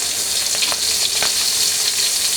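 Ingredients frying in a pan for a chicken dish, a loud, continuous close sizzle with a few sharper crackles and stir scrapes throughout.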